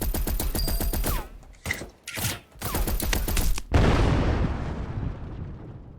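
Rapid automatic pistol fire in the video game Project Genesis, a dense string of loud close shots broken by brief pauses, ending in a long booming rumble that fades out.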